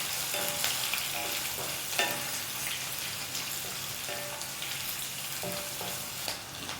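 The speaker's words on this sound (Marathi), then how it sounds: "आणि थोडं थोडं टाकून शॅलो फ्राय करणार आहे मी." Paneer shallow frying in hot oil in a pan, a dense continuous crackling sizzle at close range with occasional soft clinks, no talking.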